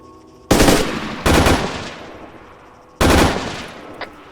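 Gunfire in the military game Arma 3: three loud, close bursts of rapid automatic fire, each with a decaying echo, separated by short pauses.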